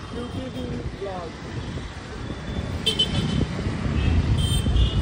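A car moves through busy roadway traffic, with a steady rumble of engines and road noise and a brief horn toot from another vehicle. Voices are heard faintly.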